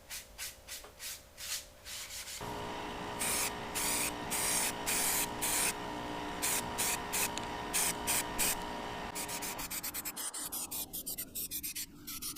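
Primer sprayed from a can onto a Honda CB750 side cover: a string of short, sharp hissing bursts, then a long steady spray broken by brief pauses, close and fairly loud.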